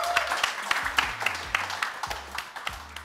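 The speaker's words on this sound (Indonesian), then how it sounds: "Kita kasih tepuk tangan untuk kalian bertiga." Studio audience applause on a comedy show, scattered, moderately quiet clapping with distinct individual claps, with music underneath.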